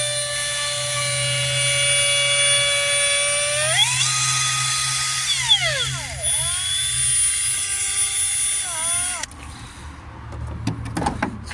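A drill spins a cable through a tube on a Renault Trafic 1.6 with a preheating unit and particle filter fault, giving a loud, steady whine that rises in pitch, sweeps down and back, then cuts off near the end.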